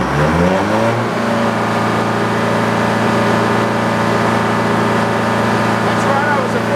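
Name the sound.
sawmill engine starting up and revving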